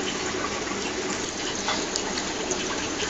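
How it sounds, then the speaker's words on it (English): Steady, loud rushing and churning of water inside a homemade internal moving bed filter in an aquarium, with the airstone removed, so the filter media is tossed around. The sound is continuous and close. "there is a little bit more water agitation there, so the media is moving around"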